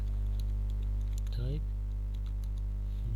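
A computer keyboard clicks in a few quick keystrokes over a steady electrical hum, with a brief tonal chirp midway.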